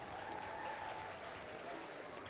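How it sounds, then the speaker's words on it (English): An audience in a county fair livestock arena claps through a show, giving a steady, even wash of applause at moderate distance without any talking. "Give her a nice round of applause."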